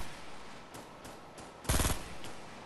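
Gunfire in the Fortnite video game, with several faint short shots followed by one louder, sustained burst of rapid automatic fire, then a couple more quiet shots.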